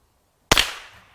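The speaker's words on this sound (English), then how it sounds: "So let's just shoot again here, see what we can hit." A Remington Sports Master model 512 .22 rifle fires a single sharp, loud crack outdoors that fades quickly in a short tail, no speech.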